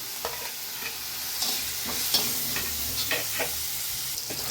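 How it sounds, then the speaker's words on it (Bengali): Onion and garlic paste sizzles steadily in a pan, with scattered stirring scrapes and clinks, close and alone with no voices. "পেঁয়াজ আর রসুনটা সুন্দর ভাজা হোক"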